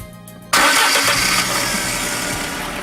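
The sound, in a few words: Fiat Tempra 16V engine starting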